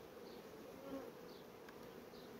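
Honey bees buzz steadily around a small hive colony kept on four frames, a soft continuous drone with no voices, faint and even throughout.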